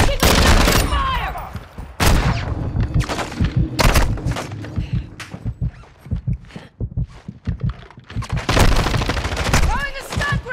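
Video game gunfire in a Vondel map firefight: loud, dense bursts of rapid shots crackle repeatedly up close, easing briefly before heavy firing resumes, with a voice heard between volleys.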